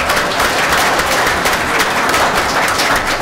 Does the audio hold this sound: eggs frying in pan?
no